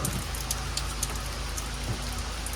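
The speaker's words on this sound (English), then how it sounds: "It's raining pretty hard outside" Heavy rain pours steadily outside a garage, a dense continuous hiss with scattered drip and splash ticks throughout, no voices present.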